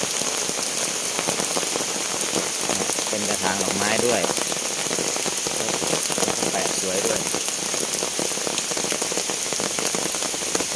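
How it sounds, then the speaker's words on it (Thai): Steady rain patters densely on surfaces, with someone speaking softly beneath the hiss of falling water. "วันนี้ก็ฝนตกด้วย"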